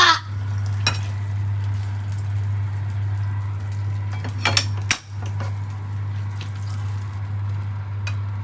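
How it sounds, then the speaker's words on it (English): Bread frying in a pan for a sandwich, a soft steady sizzle under a constant low hum, broken by a few sharp clinks of utensils against the pan. "I wasn't done sizzling the bread."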